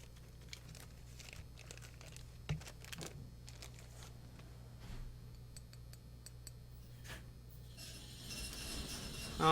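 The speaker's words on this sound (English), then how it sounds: "Cut it out of the packaging here and take a closer look at it." A Yale 2815 626 steel strike plate for a mortise lock is cut out of its plastic packaging, giving quiet crinkling, scattered snips and ticks, and a louder rustle at the end.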